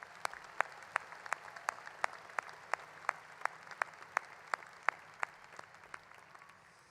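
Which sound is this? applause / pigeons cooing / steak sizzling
applause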